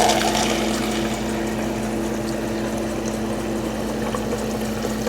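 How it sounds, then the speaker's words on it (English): A Bevy bar machine dispensing sparkling water hums steadily with a pump drone under a continuous hissing pour, close and fairly loud for several seconds without pause. "they have like a little bevy bar machine, and you can do regular still water or sparkling water."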